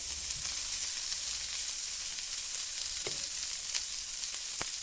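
Onion and corn stir-frying in a pan give a steady, close sizzling hiss, broken by a few sharp spatula scrapes and clicks near the end, with no talking.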